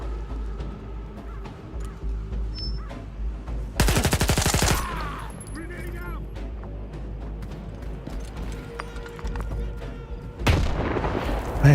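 Video game Stalker 2 combat plays out with scattered gunshots, a loud burst of rapid automatic fire, and booming grenade blasts, all close amid a dull background rumble.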